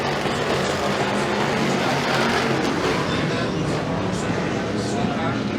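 Race cars roar around the track at Freedom Motorsports Park in a heat race, a dense continuous engine drone with rising and falling passes, heard beneath a commentator's talk.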